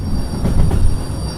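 Train in the Derail Valley game braking, steel wheels squealing with thin sustained high tones above a loud rumbling rail roar, building slightly then settling.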